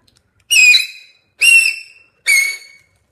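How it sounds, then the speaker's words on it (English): Three loud, sharp, shrill whistle blasts made by blowing through a chocolate wrapper, each about half a second long with clear gaps, close up against near silence. "it's a really loud whistle,"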